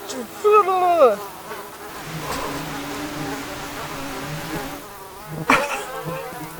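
A swarm of insects buzzes close around a hammock campsite, a constant whining drone with louder passes near the ear, opening with a brief vocal exclamation and a sharp rustle later.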